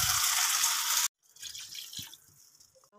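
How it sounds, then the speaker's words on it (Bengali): Water is poured into a pan of fried spice mixture for a pangas fish kalia, giving a loud steady hiss and sizzle that cuts off abruptly, then soft bubbling and dripping. "এর মধ্যে জল দিয়ে দেবো"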